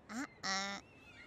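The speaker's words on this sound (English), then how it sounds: "Duck." A cartoon duck in a Mr Bean animated episode gives two short nasal quacks, the second longer, alone and fairly close.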